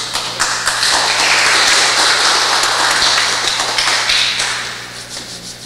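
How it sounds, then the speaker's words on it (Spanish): Loud, close applause from an audience at an engineering conference (CONIMERA XXII) swells quickly, holds steady for several seconds, then tapers off toward the end. "Aplausos para él, por favor"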